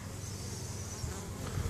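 Russian honey bees buzz steadily at the hive entrance, a dense, continuous drone of many wings close by, swelling slightly toward the end with no voices.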